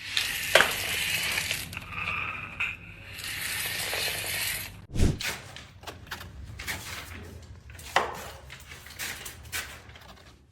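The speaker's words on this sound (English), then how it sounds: "Scraping looks fun and sounds incredible." A worker scrapes a surface by hand, producing rough, broadband scraping strokes of uneven length, broken by a few sharp knocks and thuds, fairly quiet and close, with no talking.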